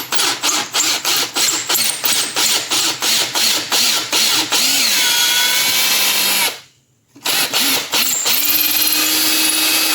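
Power drill driving a bit into sculpting material for a 1/6 scale Predator figure, with rapid bursts of whirring that stop and start again, a short silent gap, then a longer steady close spin.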